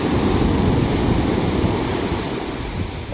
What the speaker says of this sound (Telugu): అలలు మాత్రం నెక్స్ట్ లెవెల్ అంటే నెక్స్ట్ లెవెల్ వస్తున్నాయి.